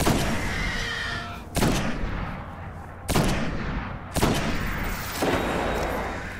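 Gunfire rings out in the video game Destiny: The Dark Below, with loud, sharp weapon blasts at about one-second intervals over a dense background of combat noise, close and forceful.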